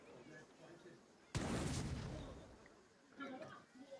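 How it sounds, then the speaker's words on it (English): A single in-game explosion effect from the video game Planet Coaster 2 bursts suddenly and loudly, then rumbles and fades over about two seconds, with a softer follow-up crackle; a voice talks faintly around it. "so that's the only explosion I have in the game"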